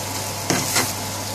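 A spice mixture sizzles in a pan with chicken hearts for an Indian bhaji, making a steady low hiss broken by a few brief stirring scrapes close by.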